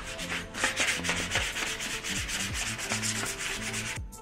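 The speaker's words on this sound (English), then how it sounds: "Alright, got it all sanded, scuffed, pretty smooth." Close, continuous abrasive rubbing as the engine bay of a Lexus IS300 is sanded and scuffed before painting, with steady back-and-forth strokes and no speech.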